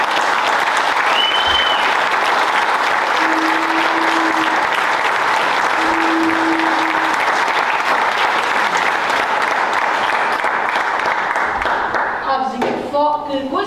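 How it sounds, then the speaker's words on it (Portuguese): Audience applause at a musical staged by Recreio dos Lavradores, a dense, steady wash of clapping that fills the whole stretch, with a few brief tonal sounds and voices poking through near the end. "peço-vos uma salva de palmas"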